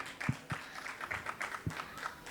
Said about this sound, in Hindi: ताली भी बजाएंगे, धीरे धीरे बजाएंगे